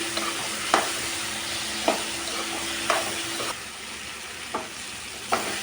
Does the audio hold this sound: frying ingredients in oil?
yes